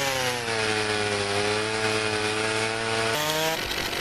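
A chainsaw cuts wood in the Forestry 2017 simulation game, a loud, continuous buzzing engine whine that holds steady before the pitch shifts and drops away near the end.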